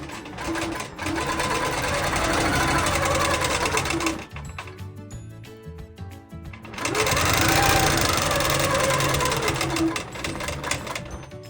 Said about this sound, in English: I'm going to sew the circle.